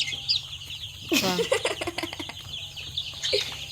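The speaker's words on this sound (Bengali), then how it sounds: "এগুলো হচ্ছে মুরগি" Chickens cluck and squawk close by in a poultry yard during vaccination, bursts of calls repeating over steady background noise, with a person talking briefly.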